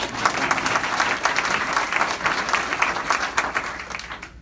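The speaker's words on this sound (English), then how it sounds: "I think we should applaud that." Dense, sustained applause from an audience at a political endorsement event fills the room, a thick wash of many hands clapping at once, loud and continuous before tapering off at the very end.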